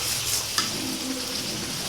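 Whole cardamom pods dropped into hot oil in a frying pan, giving a steady, close, bright sizzle with a brief clink of a utensil early on, no voices.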